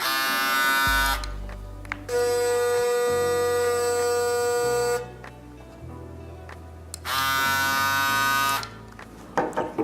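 A cheap Braun electric shaver buzzes steadily with a harsh hum, switching between rough stretches and quieter gaps, close and fairly loud with no voices.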